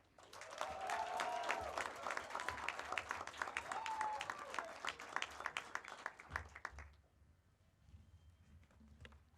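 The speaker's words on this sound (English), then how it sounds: "Let's give a big round of applause for Miss Elizabeth Semo Maleche." An audience at a graduation ceremony at a sports club breaks into loud, dense applause that swells and then tapers off into scattered claps, with a murmur of crowd voices underneath.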